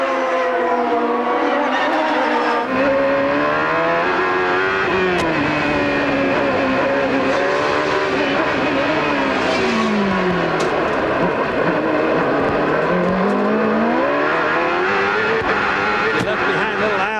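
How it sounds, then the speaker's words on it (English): 1995 CART IndyCar race cars at the Toyota Grand Prix of Long Beach, a loud continuous roar of engines rising and falling in pitch as cars accelerate, shift and pass, with overlapping whines throughout. "I just like listening to the motors here"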